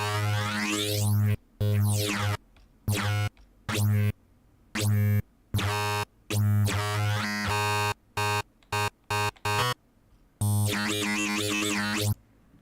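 A wavetable synthesizer patch is played an octave higher as a run of bright, buzzy notes, some with sweeping pitch. The notes are broken by short silences in an uneven rhythm, with no voices.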